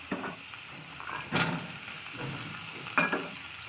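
Chira pulao with carrot, green chilli and peas frying in a pan, a soft steady sizzle broken by a few louder scraping stirs of the spoon, close and with no voices.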